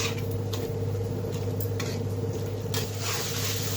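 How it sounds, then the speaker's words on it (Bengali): Paneer sautéing in spice masala in a pan, a soft steady sizzle with faint scraping and stirring clicks throughout, fairly close and continuous with no talking. "তো পনির দিয়ে মশলাটা ভালো মতো কষিয়ে নেব।"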